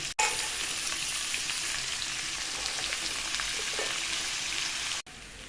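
Garlic and mixed vegetables frying in a hot wok for egg chowmein, giving a loud, steady, dense sizzle that runs unbroken for about five seconds before a sudden cut, with no voices.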